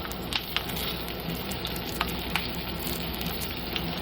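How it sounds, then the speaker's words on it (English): Tortillas fry in a hot pan for chilaquiles, a steady, close sizzle with a few sharper pops and crackles and no talk over it. "It may look like the heat is on too hot, like we're frying these guys."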